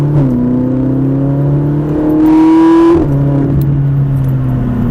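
A Ferrari 458 engine accelerates on the Mettet circuit, its steady rising tone climbing through a gear, then a brief louder whine and a shift before it pulls on again close by.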